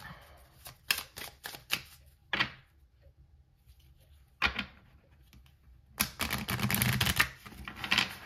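A tarot deck is reshuffled by hand. Short bursts of riffling and tapping cards come in quick clusters with pauses, then a longer, sustained shuffle at the end.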